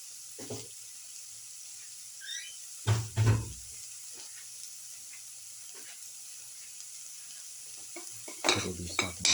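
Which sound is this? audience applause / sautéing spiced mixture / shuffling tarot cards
sautéing spiced mixture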